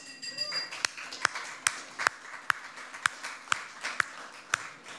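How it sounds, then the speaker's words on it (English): Slow, evenly spaced claps at a tourism seminar, sharp and distinct at roughly two per second, with a murmur of room sound and voices underneath. "I'm going to introduce them one by one for a quick round of applause"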